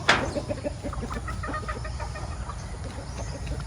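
Chickens on a poultry farm in Glan, Sarangani Province, cluck in short, rhythmic bursts over a steady background hum, fairly close, with a sharp squawk at the start.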